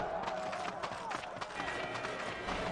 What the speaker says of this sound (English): You only hear it when you're right next to a handful of them, but it sounds like they're a distant crowd